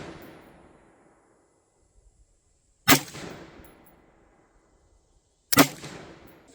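A homebuilt AR-15 rifle fires .223 rounds at an outdoor range, with two sharp, loud isolated reports a few seconds apart, each trailing off into a brief echo against a quiet background.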